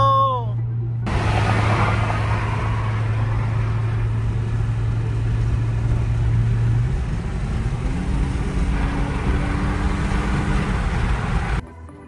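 A Saab Turbo X with the 2.8T engine idles steadily after an exhaust valve repair, a smooth, even low hum that shifts to a slightly higher steady tone partway through, with no voices.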